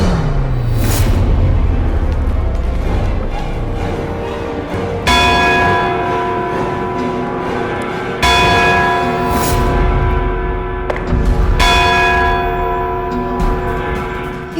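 A large bell tolls slowly, three resonant strikes spaced a few seconds apart, each ringing out and fading over a low background hum.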